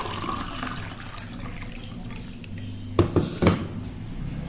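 Hot water is poured into a vessel in a home kitchen, a low continuous splash topped by a few sharp metallic clinks of utensils and pots near the end.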